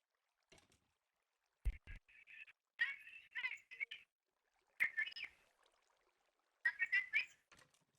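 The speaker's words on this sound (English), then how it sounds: "I can hear your phone." A phone rings nearby in a quiet room, its ringtone sounding as short, chirpy melodic bursts that repeat in spaced groups, moderately faint, with a brief low thump early on.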